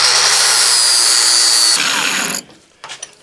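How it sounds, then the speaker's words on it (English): Angle grinder with a flap disc grinding metal during a Foxbody fuel cell and battery mount fabrication, a loud, steady high-pitched whine that stops abruptly, followed by faint clatter. "And the other way is just grinding. So grab your flap disc and you can get."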